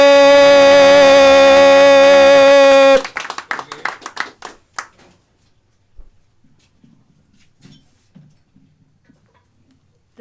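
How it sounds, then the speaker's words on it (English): An open-mic comedy audience claps for the next comic after a sustained tonal musical sting. The clapping is scattered and patchy, thins within a couple of seconds and leaves near silence. "Everybody make some noise and give a warm welcome to Rhonda."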